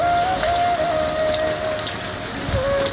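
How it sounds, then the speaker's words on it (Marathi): Steady rain pours down continuously with an even hiss, and a faint thin tone drifts along in the background. "रात्री बसून हा नुसता पाऊस सुरू आहे"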